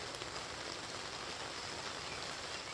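Steady rain falls outside a greenhouse in Kentucky, an even broadband hiss of drops on surfaces with no voices.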